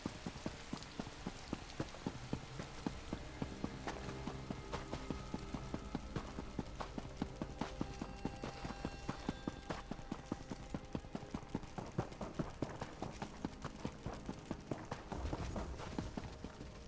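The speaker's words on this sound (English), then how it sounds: "I'm gonna speed up my horse" A horse gallops in The Elder Scrolls Online, with rapid, steady hoofbeats that continue without a break over a dense, rain-like wash of background noise.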